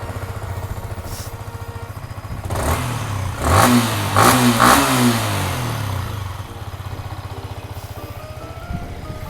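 A 2018 Yamaha MT15 motorcycle idles with a steady, close thrum, then is revved in several quick blips that rise and fall in pitch before settling back to a steady idle.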